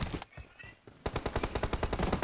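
Automatic weapon fire in the mobile battle royale game PUBG Mobile, a faint burst at first, then a loud, close, rapid string of regular shots running steadily to the end.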